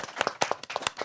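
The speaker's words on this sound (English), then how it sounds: "Another round of applause for" Brief audience applause at a talk on designing just cities, with a handful of distinct, fairly close hand claps in an uneven rhythm, lasting only about a second.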